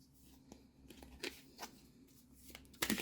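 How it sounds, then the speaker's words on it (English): Oracle cards being shuffled by hand: quiet, close papery riffles and soft slides in irregular bursts, ending with a sharper crisp flutter. "Shuffle the cards any way we like"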